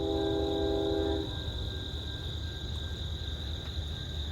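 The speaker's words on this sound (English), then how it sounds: "Here comes the train." A train horn sounds briefly at the start, then a steady rolling rumble of rail cars continues near Bryan Park Road, fairly distant and moderate in level.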